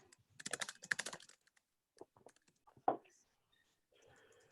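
A computer keyboard is typed on in short bursts of quick clicks, close and crisp, with pauses between runs and a louder tap near the middle; no one speaks.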